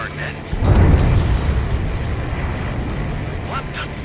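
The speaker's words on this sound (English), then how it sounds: "A huge explosion just went off underwater." In the Ace Combat 7: Skies Unknown flight game, an underwater explosion erupts as a deep, loud rumbling boom. It swells after half a second and lingers beneath radio chatter from game characters.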